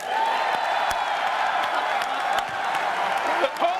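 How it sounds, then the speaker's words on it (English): A large convention crowd applauds and cheers continuously, dense clapping filling the space with a few whoops rising above it. "give me a round of applause"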